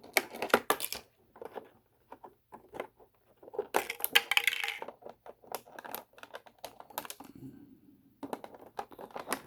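Snipping a Transformers Studio Series 86 Wreck-Gar toy figure free from its plastic tray: sharp, close clicks and crunchy snaps in irregular bursts, with short pauses between cuts.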